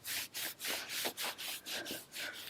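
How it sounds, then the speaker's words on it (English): Hands rub and massage legs in quick, even strokes, a dry, soft swishing repeated about nine times in a steady rhythm, quiet and close with no talking. "All the parts, warming and rubbing."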